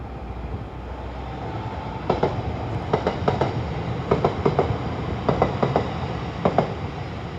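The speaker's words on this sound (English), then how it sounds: "Train now approaching is a London Northwestern Railway, not London Northwestern Railway, a London Overground train to London Euston." A London Overground train approaches along the line at Primrose Hill, a steady rumble building with rhythmic clickety-clack wheel beats over rail joints, fairly close and loud with no voices.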